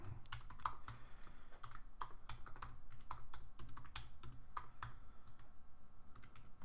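Password typed on a computer keyboard at a login screen: rapid, close, crisp key clicks in an uneven rhythm, with a few louder strikes standing out throughout.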